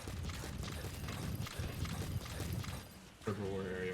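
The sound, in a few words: donkey hooves in a video game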